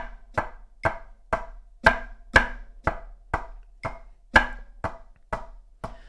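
Drum double stops played as a steady run of sharp, popping hits, about two strokes per second, with alternating accents and lighter taps, close-miked near the hands and with no voices.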